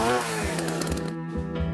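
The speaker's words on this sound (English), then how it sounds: "With a chainsaw." A chainsaw-like engine roar used as a comedic sound effect in an advertisement, a short loud revving burst of under two seconds that stands alone without talk.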